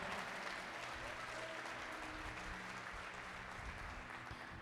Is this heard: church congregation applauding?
yes